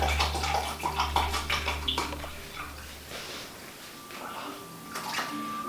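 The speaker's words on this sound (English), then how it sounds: "Pouring water right here and melting it with sugar will allow the temperature to be exactly 50 Celsius." Water is poured into a jar of sugar while making tepache, a steady gurgling splash up close that slowly settles into a softer trickle.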